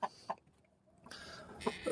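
A few faint, short clucks from a Brazilian rooster, spaced apart with quiet gaps, heard from a little distance.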